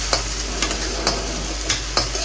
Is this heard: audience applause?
no